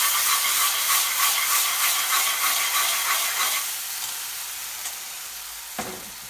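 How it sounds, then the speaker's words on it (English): Tomato puree hitting a hot pan for a garlic chilli chicken sabzi, with a loud crackling sizzle that settles into a quieter steady hiss halfway through and a single clack of a utensil near the end. "So I'm adding about four to five tablespoons of tomato puree."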